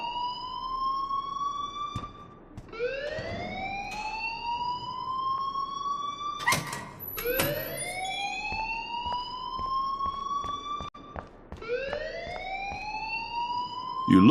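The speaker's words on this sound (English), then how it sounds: "please turn off that alarm since that's your job" A school alarm in the video game Life Is Strange wails loudly in repeated rising sweeps, one cycle after another like a siren, with a sharp electronic chirp between sweeps and no talking.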